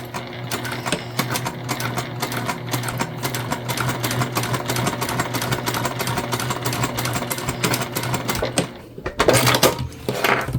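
A sewing machine runs steadily back and forth, back stitching along a fabric pouch past the turn hole, a loud continuous whirring close by that pauses and surges briefly near the end.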